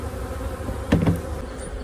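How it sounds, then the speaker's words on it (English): Honey bees from a newly installed package swarm around a hive outdoors, a steady dense buzz throughout with a few louder passes of individual bees close to the microphone midway. "a lot of the bees have gone inside. They're starting to fan a little bit."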